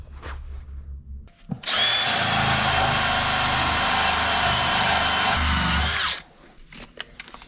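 A cordless drill runs overhead inside a vehicle's wheel well outdoors on a brisk day, giving one loud, continuous whirring burst of about four seconds, with quieter handling noises before and after.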